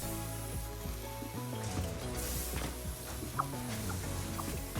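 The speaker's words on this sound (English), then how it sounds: "Frickin' bird." A bird clucking inside a factory in the Satisfactory video game, soft chicken-like clucks mixed into a busy bed of game music and machine hum.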